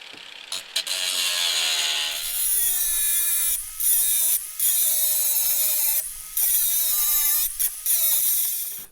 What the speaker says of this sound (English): Let me just quickly grind that off.